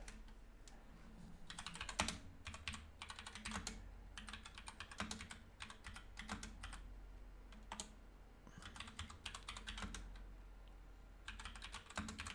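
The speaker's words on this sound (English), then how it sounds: "Oh, my keyboard." Typing on a computer keyboard, bursts of rapid close key clatter broken by short pauses, continuing for several seconds with no talk.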